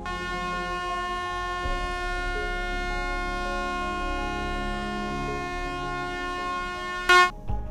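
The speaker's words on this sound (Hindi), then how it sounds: "एरोप्लेन में भी हॉर्न होता है जिसका यूज पायलट फ्यूल फिल करने के लिए या पार्किंग करने के लिए करता है" An airplane horn blares as a long, steady, multi-tone drone held for about seven seconds, loud and close, then a sharp louder burst and cut-off near the end.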